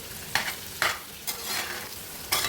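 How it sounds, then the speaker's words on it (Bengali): Onions stirred and fried in a pan for potol bhaji: four distinct scraping strokes of a spatula, each a short bright scrape over a soft continuous sizzle. "পেঁয়াজ কিন্তু পুড়ে ফেলা যাবে না তাই নেড়ে চেড়ে ভেজে নিতে হবে"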